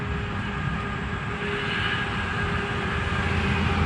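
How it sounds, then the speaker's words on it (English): Steady roar of traffic on Highway 51, heard as a constant broadband rumble from right beside the road, continuous and fairly loud with no pauses. "Pardon the background noise. We're right on top of Highway 51."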